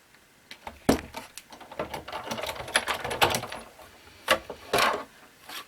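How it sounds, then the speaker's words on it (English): Big Shot die-cutting machine cutting an oval on a magnetic platform, giving a run of close, irregular mechanical clicks, ratchety cranks and knocks, loudest in a few sharp bursts near the end. "we take the oval and we're gonna cut it. So I need my Big Shot machine."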